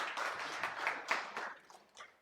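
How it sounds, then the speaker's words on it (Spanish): A church congregation gives a short round of applause that is faint and distant, tapering off after a couple of seconds. "Denle un aplauso"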